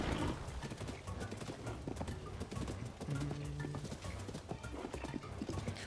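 A horse gallops in the video game Zelda Tears of the Kingdom, with rapid rhythmic clip-clop hoofbeats repeating steadily and fairly loud throughout, with a faint whinny.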